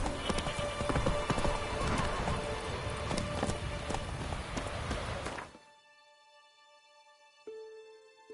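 Horse hooves clip-clop at a rapid gallop in The Witcher 3 video game, loud and steady with game ambience, then cut off abruptly into near silence followed by a brief soft tone.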